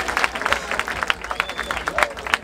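A crowd at the Batalha da Aldeia rap battle in Barueri claps for the competitors, with many close, sharp hand claps in an uneven, lively rhythm over a murmuring audience.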